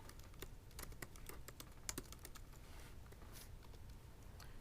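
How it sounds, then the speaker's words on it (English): Fingers typing a file name on a computer keyboard, a steady run of light, quick clicking keystrokes close by with no talking. "I run it and I type in the name of the file"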